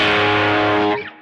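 An electric guitar through a Tube Screamer overdrive pedal rings out one sustained, smooth, mid-heavy overdriven chord that holds steadily, then is cut off and fades quickly near the end. No voices are present.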